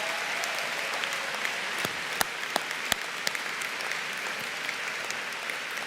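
An audience at a law school commencement ceremony for Duquesne University applauds steadily, a dense, even wash of clapping heard from a distance with a few sharper individual claps standing out.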